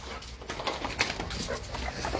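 Zeus, a dog at home, whimpering with faint, broken whines and small yelps spread across a couple of seconds beneath steady background noise.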